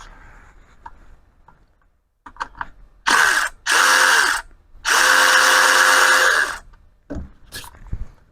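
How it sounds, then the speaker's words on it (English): A ratchet fitted with a 5/8 inch socket works an oil pan bolt on a 4x4 Dodge Cummins, giving loud close bursts of rapid clicking separated by brief pauses, with a few softer taps around them. "Now I've got a 5/8 inch socket."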